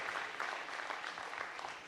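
Audience applause at a New Year's greetings gathering, a dense, even wash of many hands clapping at moderate distance, sustained throughout without breaks.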